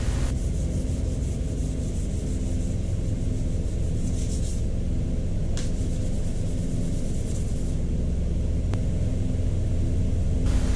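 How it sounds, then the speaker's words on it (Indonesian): Sandpaper rubbing steadily over a dented car body panel during body repair, a continuous close scratchy rasp with no pauses and no voices. "setelah kita amplas dengan rata dan maksimal"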